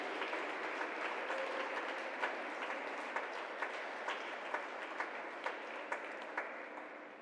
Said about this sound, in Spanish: Dale ese aplauso a papá